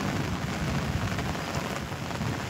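Heavy rain pours down in a sudden cloudburst, a dense, steady roar of drops drumming on surfaces, close and continuous.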